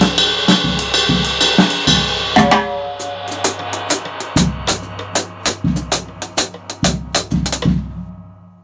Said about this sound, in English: a real very simple fill that will happen when you want the dynamic in the song to drop